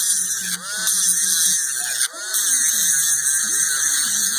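A rotary tool grinds and smooths the edges of dentures, a steady high-pitched whine with brief dips as the bit lifts off, close and loud throughout.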